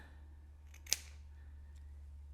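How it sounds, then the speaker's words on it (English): Scissors cut through the acrylic yarn loops of a tassel in a single quiet, crisp snip, heard close against a low steady room hum. "pulling my scissors away. I'm gonna cut through them to open them up"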